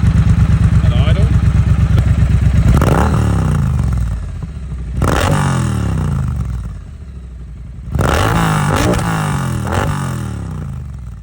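A Triumph Bonneville with a British Customs Predator Pro Shorty exhaust and cat-delete X-pipe idles with a raspy, throaty burble, then is revved sharply three times, each burst rising and falling back to idle, loud and close.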